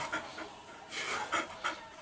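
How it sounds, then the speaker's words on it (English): Molly the dog pants close by in quick, rhythmic breaths, with no one speaking. "here's Molly dog."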